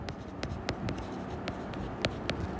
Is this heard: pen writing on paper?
yes